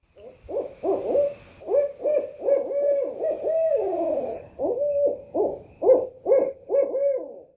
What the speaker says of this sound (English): our final common year-round resident, the great horned owl